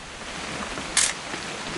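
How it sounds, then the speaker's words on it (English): A single sharp camera shutter click stands out briefly against a steady hiss of background noise. "Just want to get a shot of you, Dawn, then we can take off."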